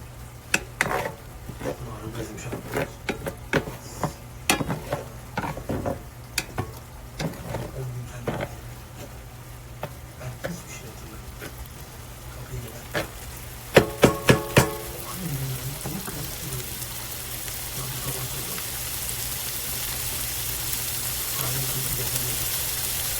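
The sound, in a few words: stirring red pepper flakes into sizzling stir-fry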